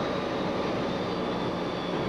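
A Grumman A-6 jet aircraft gives a steady, loud, broadband engine roar with no talk over it.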